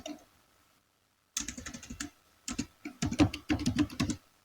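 Computer keyboard typing in a mapping-software tutorial: after a short silence, a few quick bursts of close, crisp key clicks come in irregular clusters, with brief pauses between them and no voices.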